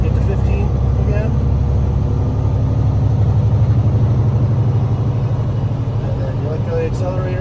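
A truck engine with an Eaton 10-speed transmission bogs down under load: a loud, steady low rumble with a labouring drone throughout. A voice talks over it.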